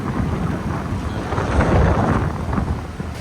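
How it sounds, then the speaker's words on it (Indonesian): A raging, flooding river surges past in a continuous loud roar, broad and rumbling with no talk over it, on a rural stretch where the current is tearing at a damaged road. "Nah, ini kondisi sungainya sana. Wah, sungainya mengamuk sana."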